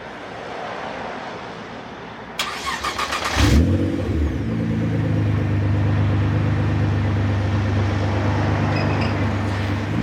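A car engine fires up and settles into a steady, loud rumble close by at the exhaust pipe during a sound level test, with a revving burst at the start.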